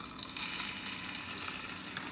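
Tortilla batter for a keto recipe hisses and sizzles steadily as it is poured into a frying pan coated with olive oil, a close, continuous crackling fry.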